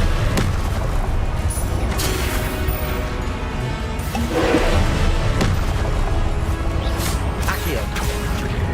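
Spell blasts and fiery explosions in the Hogwarts Legacy video game, a dense loud barrage of booms and crashes over a constant roar, with a voice shouting spell names throughout.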